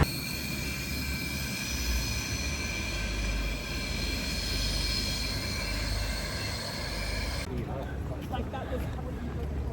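An evening train runs back into Stratford with a steady, loud rolling rumble throughout, and the tone of the ride shifts abruptly near the end.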